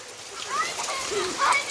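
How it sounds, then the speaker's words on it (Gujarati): Rain falls steadily in a village, a broad close hiss dotted with splashes and drips, while a person talks over it. "મિત્રો જો વરસાદ ચાલુ થઈ ગયો છે"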